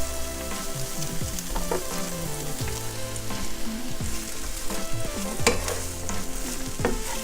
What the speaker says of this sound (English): Don't you love that sizzling sound? Now we're gonna throw in some of the onion.